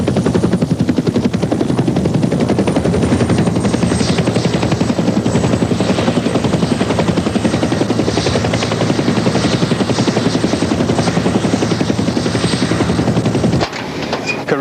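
A helicopter's rotor and engine throb loudly and steadily for nearly the whole stretch, with dense rapid beating, then cut away abruptly near the end.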